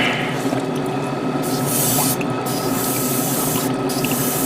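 An airbrush sprays primer onto a Gundam model kit, a steady, close hiss that carries on without a break, with a few brief dips where the trigger eases off.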